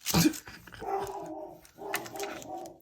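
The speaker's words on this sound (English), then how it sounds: "I don't know what she's barking at" A dog barks sharply once, then lets out a couple of drawn-out whining howls, fairly close.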